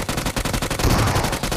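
Shotgun fire in a tournament video game: a quick string of sharp, evenly spaced shots, loud and close, rattling off in rapid succession across under two seconds.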